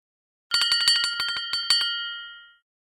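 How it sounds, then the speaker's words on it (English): A bright metallic school bell rings out at the end of the day in a quick burst of about ten strikes, clear and close, then its tone fades away into silence. "That's the bell telling me that school is finished for the day."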